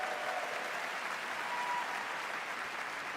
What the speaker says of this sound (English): a round of applause for our amazing devs